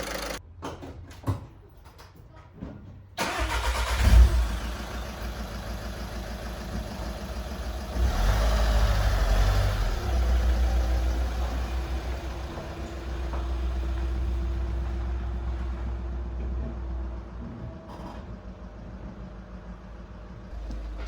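A VW Caddy with a newly replaced fuel injector: a few clicks and clunks come first, then the engine turns over and catches, gives a brief rev, and settles into a steady low idle that runs on alone.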